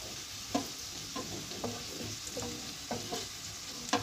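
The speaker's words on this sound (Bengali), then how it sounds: "এটাকে আমি ব্রাউন করে ভেজে নেব। দেখুন পেঁয়াজগুলো আমার লাল লাল হয়ে ভেজে গেছে।" Onions frying in a pan until browned, a steady close sizzle with scattered soft pops and scraping stirs, no talking.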